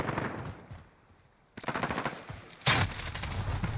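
Bursts of rapid automatic gunfire in the video game Modern Warfare, two loud volleys, the second the sharpest, with a brief lull between them.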